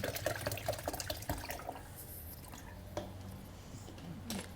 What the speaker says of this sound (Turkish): oraya su ekliyorsun